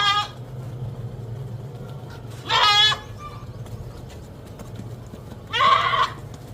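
Goats bleat at a crowded livestock market: three loud, wavering bleats come at the start, middle and end, over a steady low murmur of background noise.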